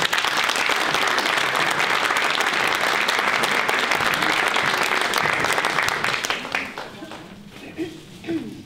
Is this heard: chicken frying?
no